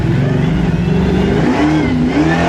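A Ford big-block 9.7-litre drag car engine roars loud and close, revving hard with a dense, rasping growl and rising pitch under full acceleration, continuous throughout.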